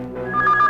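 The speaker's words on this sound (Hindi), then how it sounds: "सर, फोन है।" A telephone rings in an indoor film scene, a short electronic ring with a steady repeating tone pattern that swells slightly, fairly close and clear with no talk over it.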